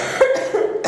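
A single close cough split into quick throaty bursts, loud and dry, with nothing else around it.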